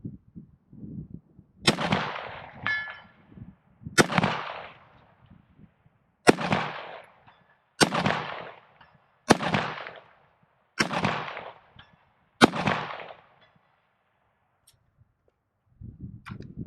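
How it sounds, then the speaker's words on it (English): Seven sharp rifle shots from a .223 Wylde Rosco Manufacturing Duty Rifle with a 16-inch Purebred barrel fire at steel targets 252 yards out, spaced about two seconds apart. Each crack is loud and close and trails off in a ringing echo. "Let's see if we can ping some steel"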